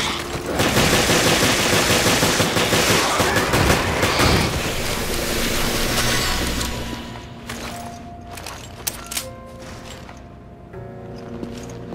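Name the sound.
gunfire from a video game (Resident Evil Revelations)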